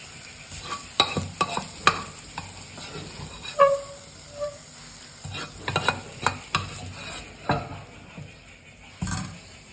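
A spoon scoops bitter gourd pachadi into a dish, making irregular close scrapes and clinks against the vessel with short pauses between strokes.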